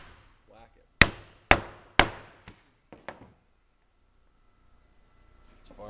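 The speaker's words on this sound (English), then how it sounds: "Then this thing holds it in place while I whack it." Hardware is hammered into holes while a box is built, with three sharp loud whacks in quick succession followed by a few lighter taps, close up in a quiet workshop.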